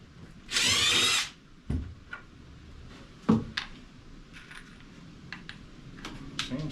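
A power drill whirs in one short, loud burst driving screws into wooden loft shelves in a tiny home, followed by scattered clicks, taps and handling knocks in a quiet room.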